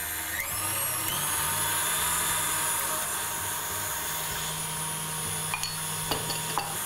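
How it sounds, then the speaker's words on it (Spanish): An electric mixer whirs steadily at medium speed while beating eggs for a tres leches sponge cake, a continuous close buzzing whine with a few faint clicks and bumps toward the end, and no talking. "vamos a comenzar a batir a una velocidad media hasta que nuestros huevos empiecen a levantar"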